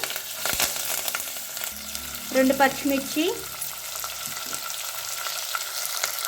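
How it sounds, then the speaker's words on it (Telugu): Onions and curry leaves hit hot oil in a tempering for millet rava khichdi, giving a steady close sizzle with stirring scrapes and a short spoken phrase midway. "ఇప్పుడు రెండు రెబ్బలు కరివేపాకు వేసుకుని ఆనియన్స్ వేసుకుంటున్నాను"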